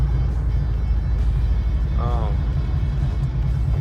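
A 1970 VW Bay bus engine idles smoothly, a steady low rumble with even pulsing, close and constant, with a brief voice sounding over it midway.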